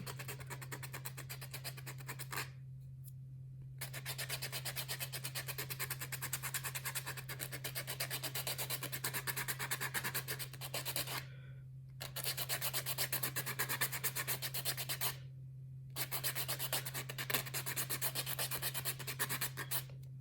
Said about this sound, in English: I do want to buff and get the nail nice and smooth. I'm going to go ahead and start buffing that.